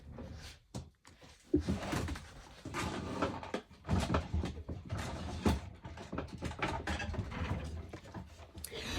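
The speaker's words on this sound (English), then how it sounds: "Again, I'm reaching for my handy dandy little cutter." A small handheld cutter trims paper calendar imagery for a collage, making close, irregular clicking and ratcheting snips with brief pauses between cuts.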